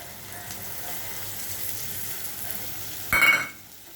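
A paste of ground ginger, cumin, coriander, turmeric, salt and green chili frying with onions in a pan, a steady low sizzle with a brief louder burst of stirring near the end.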